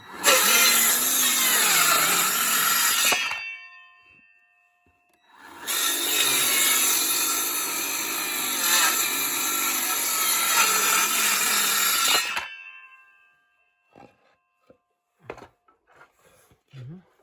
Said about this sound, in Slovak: A takto si budeme píliť.